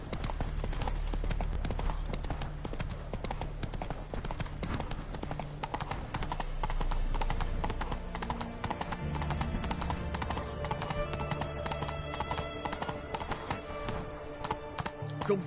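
Roach the horse gallops in The Witcher 3, a fast, steady rhythm of hoofbeats thudding up close over game ambience, with a brief whinny and a few faint voices.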